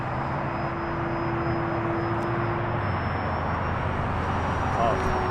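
An affordable beginner RC plane flies overhead outdoors, its motor giving a steady, continuous whine over a broad wind-like rush that holds level throughout.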